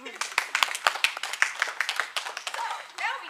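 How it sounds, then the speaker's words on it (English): A small convention audience at Kawa-Kon 2012 claps in a brisk, scattered round of applause, close and moderately loud, with voices mixed in near the end. "Round of applause for our Mary."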